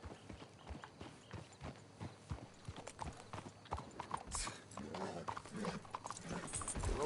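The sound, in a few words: horse hooves clip-clopping in a video game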